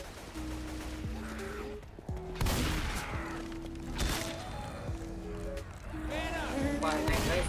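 Gunfire at a gas can in Left 4 Dead 2, with several sharp shots and bursts cutting through busy game noise while voices talk over it.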